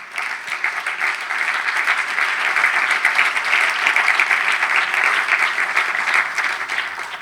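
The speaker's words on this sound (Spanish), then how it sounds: "Denle un aplauso al Señor" A church congregation applauds for the Lord, a dense, loud and continuous wash of many hands clapping together that holds steady throughout.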